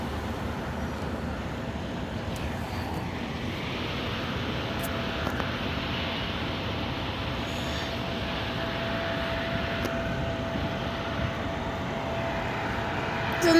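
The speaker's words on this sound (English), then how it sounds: "It's another Embraer." An Embraer jet airliner approaches to land at San Diego, a faint distant steady rumble of jet engines mixed with background traffic noise, no voices.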